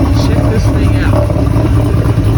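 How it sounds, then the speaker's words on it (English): A Volvo 242 LS with an engine swap idles and burbles through its exhaust, a dense, loud, continuous rumble that runs the whole time without clear breaks. "Very unassuming, but listen to that exhaust."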